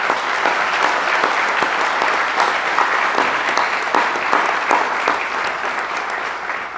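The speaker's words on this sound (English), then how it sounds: "can we please give them a round of applause?" Audience applauding at a police department swearing-in ceremony for a new police chief: steady, dense clapping from a large crowd, sustained and fairly loud for several seconds without a break.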